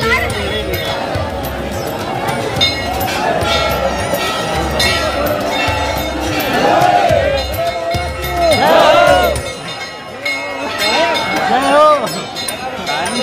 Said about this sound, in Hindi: भीड़ देखो